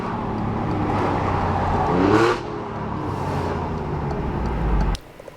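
An Alfa Romeo Giulia Quadrifoglio sports car engine revs and roars steadily up close, its repaired exhaust note rising briefly before cutting off abruptly near the end.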